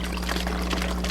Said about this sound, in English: Let's dump some of our warm sugar water in.